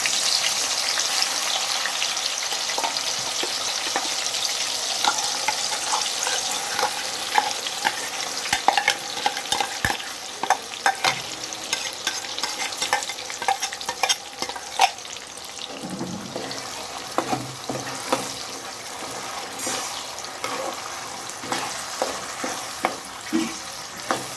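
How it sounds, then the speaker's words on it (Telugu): Ground onion paste frying in hot oil, with a steady sizzle broken by frequent stirring scrapes and clicks of a utensil against the pan, close and continuous with no talking. "ఉల్లిపాయ అయితే వేసుకుంటాను"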